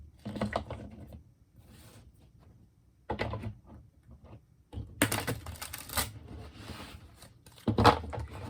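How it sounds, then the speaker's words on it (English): A tarot card deck is shuffled in several short, crisp riffling bursts separated by quiet pauses, close and fairly soft, with a final quick flurry near the end. "We'll do one more shuffle."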